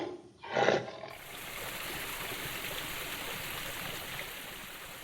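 A tiger lets out a single short, loud roar near the start, followed by a steady rushing of water like a stream or waterfall that continues alone.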